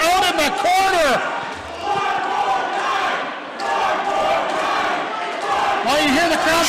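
A wrestling crowd at a pro wrestling show chants and cheers in loud, echoing waves around a commentator's excited voice, swelling at the start and end.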